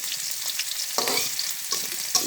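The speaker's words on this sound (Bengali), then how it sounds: "কুচি করা রসুন দিয়ে আর পেঁয়াজকে ভাজি কড়াই বসিয়ে গরম তেলে" Chopped garlic and onion fry in hot oil in a wok, giving a steady close sizzle with a few short scraping stirs mixed in; nobody speaks.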